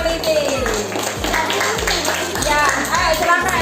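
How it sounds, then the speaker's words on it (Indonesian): A classroom group of children claps in quick rhythmic bursts, repeated several times, with young voices and chatter mixed in. "Tepuk tangan kelompok D yang teliti."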